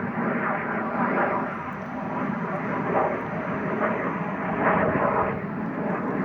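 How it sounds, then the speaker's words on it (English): An airplane drones steadily overhead outdoors, a loud continuous engine rumble filling the whole stretch with slight swells in intensity, with no clear break as it passes. "Y'all pardon the airplane too."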